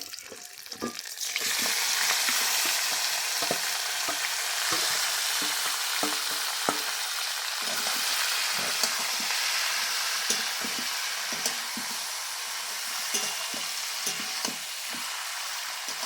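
Marinated goat meat frying with crisp fried garlic in a pan, a village-style spicy braise, gives a loud, steady sizzle with sharp crackles and occasional stirring scrapes throughout, no voices.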